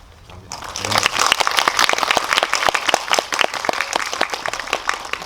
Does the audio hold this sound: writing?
no